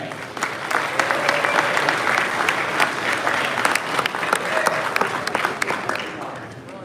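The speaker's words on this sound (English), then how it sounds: "round of applause there" An audience applauds after an auction sale at a Hot Wheels collectors' convention finale, a steady crowd of clapping with a few sharp louder claps, sustained for several seconds.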